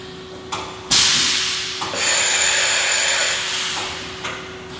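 A Mighty Viper VMC2100 vertical machining center runs a program in a shop: bursts of mechanical whirring and clattering with a high whine, steady under a constant low hum, close and fairly loud with no voices.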